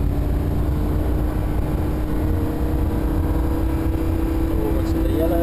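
A Lamborghini Huracan accelerating through a left-hand curve on the Thruxton circuit, its engine a loud, steady droning roar that holds and builds throughout, heard from inside the car.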